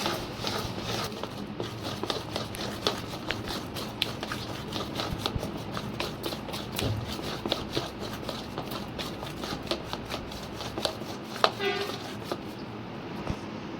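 Vanilla cake batter mixed by hand in a bowl, a steady run of soft, wet slapping and scraping strokes that continues close up for the whole stretch with no talk.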